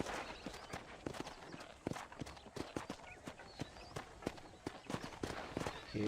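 A horse's hooves clip-clop at a brisk, irregular trot in Red Dead Redemption, sharp close strikes repeating throughout over quiet game ambience.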